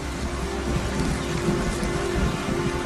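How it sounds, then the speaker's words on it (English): Steady, fairly loud rain falls throughout, a dense even hiss of drops on surfaces with no voices over it. "It's starting to rain."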